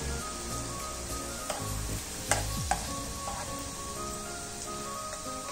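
An herbal hair remedy bubbles in a pot, a faint, continuous sizzling simmer with a few soft clinks and taps near the middle.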